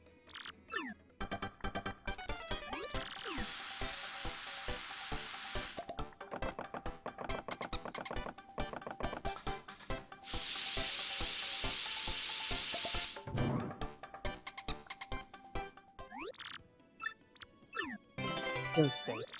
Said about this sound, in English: I'm just gonna cook the ultra shroom.